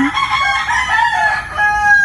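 Loud, close rooster crowing, several overlapping calls with clucking around them.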